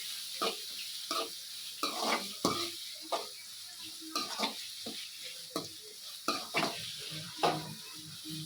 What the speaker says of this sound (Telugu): ఉల్లిపాయలను కొంచెం గోలనివ్వాలండి. బ్రౌన్ కలర్ వచ్చేదాకా కొంచెం వేగించుకోవాలి.